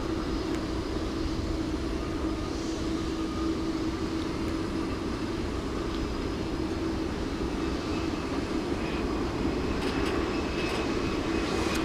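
Airplane at DFW Airport at night, a steady droning engine roar that holds an even, continuous level throughout with no talk.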